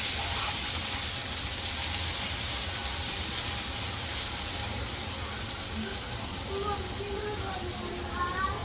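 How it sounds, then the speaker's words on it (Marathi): Onion frying in a pan for a Konkan-style jackfruit curry, a steady soft sizzle throughout with faint background voices and a few thin squeaks near the end. "कांदा टाकतोय. कांदा ॲड केलाय."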